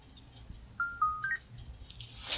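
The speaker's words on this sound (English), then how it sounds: "That was my phone." A phone gives a short melodic ringtone, a few quiet tones rising in steps over a soft background hum, followed by a brief bright chirp near the end.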